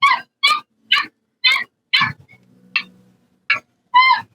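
A dog on the street barks in a rapid string of about eight sharp, yappy barks, fairly close and loud, with a short pause near the middle where faint low rumbling shows through.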